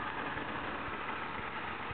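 A Volvo S40 engine running steadily, with a close, even mechanical hum and no other sounds.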